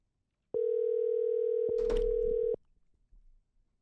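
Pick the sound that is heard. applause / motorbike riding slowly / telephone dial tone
telephone dial tone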